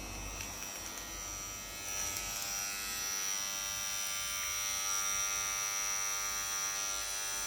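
A Scorpion tattoo machine runs at full power, producing a steady, faint electric buzz with a high whine that holds evenly throughout, heard alone without talk.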